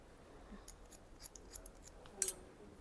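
Scissors snip through hair during a women's layered square cut at a hairdressing academy, a series of faint, crisp clicks spaced irregularly, ending with a slightly louder double snip in a quiet room.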